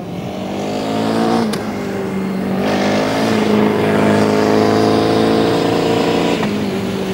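Formula Student race car driving an endurance run at Formula Student Germany 2009, its engine note loud and steady with harmonic whine rising and falling as it accelerates and shifts, a couple of sharp clicks in between, no talk.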